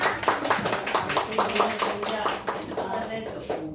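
A classroom audience claps steadily for a few seconds, a dense patter of many hands that fades slightly toward the end.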